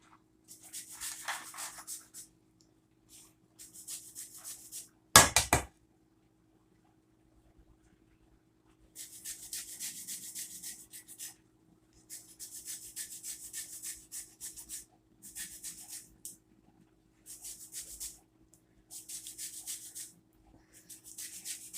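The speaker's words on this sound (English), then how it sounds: "You just want to keep turning that lemon because you want to make sure you get that zest off the lemon fairly all the way around." A lemon rasped across a grater for its zest: repeated scratchy rubbing strokes in short bursts with pauses between, close and crisp, plus one sharp knock early on.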